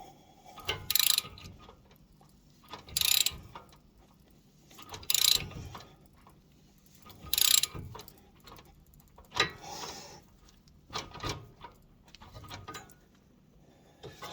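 A lug nut being tightened to pull a new wheel stud into a car hub. Sharp, ratchet-like bursts come at a steady pace about every two seconds, with quieter mechanical clicks between them.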